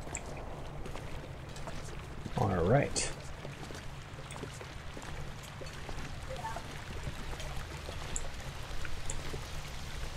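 Running water in The Long Dark, a steady broadband wash of a stream flowing throughout, with a brief voice speaking briefly over it near the start.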